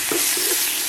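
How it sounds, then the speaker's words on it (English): Food sizzling in coconut oil in a pan over low heat: a close, continuous bright hiss of frying with a couple of soft stirring or flipping sounds in the first half, no voices. "You can see the coconut oil just gives it this whole sizzling effect, which is really cool."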